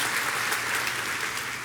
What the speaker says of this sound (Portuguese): Pode dar uma salva de palmas ao Senhor